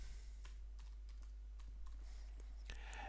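Typing a search word on a computer keyboard, with a steady stream of quiet, close key clicks, several sharper taps and a louder pair of strokes near the end over low background hum.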